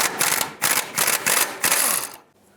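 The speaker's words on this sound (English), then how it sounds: "I'm going to bring in my socket through the back here with an extension." A socket wrench with an extension ratchets a sway bar link nut on a 2003-09 Toyota 4Runner, giving several close bursts of rapid clicking with short pauses between strokes, the last fading out.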